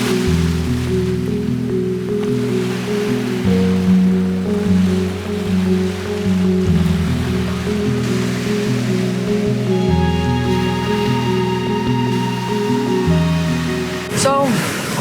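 Ocean waves washing up on a shore with a rising tide, a continuous broad surf wash with music playing over it throughout and a brief sharp noise near the end.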